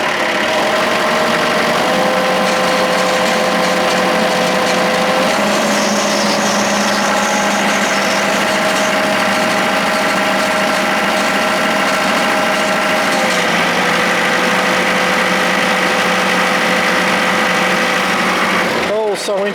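An air-powered motor runs steadily with a high, whining drone like a large die grinder, holding an even pitch for most of the stretch before shifting slightly and cutting off near the end.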